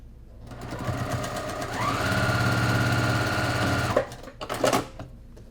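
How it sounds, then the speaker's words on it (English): A sewing machine stitches a quarter-inch seam on a Christmas quilt block, running in a steady continuous whir that rises in speed partway through, then stops with a few short clicks and handling noises near the end. "Pin, sew with a 1/4 inch seam,"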